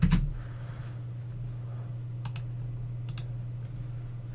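A few sparse keystrokes on a computer keyboard while entering a dimension in AutoCAD, light separate clicks over a quiet steady room hum, with no talking.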